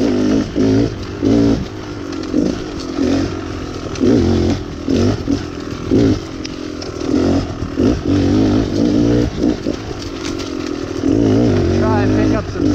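A 2018 Beta Cross Trainer 300 dirt bike engine drones while riding, its note rising and falling in repeated bursts as the throttle opens and eases, loud and close with steady pulsing rhythm.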